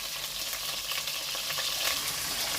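Meatballs frying in a pan for a patate boulette recipe, giving a soft, continuous sizzle with fine crackling throughout; no one speaks.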